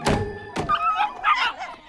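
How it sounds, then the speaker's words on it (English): Puppies give a few short, high yips and barks in an animated cartoon scene, two sharp bursts early on followed by fainter whimpering yaps. "Puppies!"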